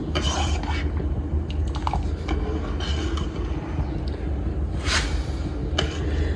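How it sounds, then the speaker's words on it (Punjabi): A metal spoon stirring sugar syrup in a vessel, a series of light clinking taps against the sides at irregular intervals over a constant low background hum. "ਚੰਗੀ ਤਰ੍ਹਾਂ ਘੋਲ ਲਵੇ ਚਮਚ ਦੇ ਨਾਲ ਇਸ ਤਰ੍ਹਾਂ ਕਰਕੇ ਹਿਲਾ ਲੈਣਾ ਹੈ"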